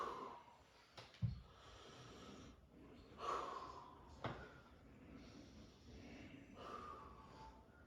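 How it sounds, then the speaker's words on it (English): A patient taking slow, deep breaths during a lung and respiratory assessment, several long airy inhales and exhales spaced a couple of seconds apart, close and quiet, with a brief bump of handling noise near the start. "Go ahead and take some deep breaths."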